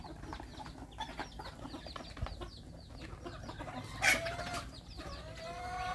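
Bantam chickens on a farm in Chanthaburi at evening feeding time cluck softly and repeatedly at close range, with a brief sharper squawk in the middle and a rooster-like call near the end over quiet background.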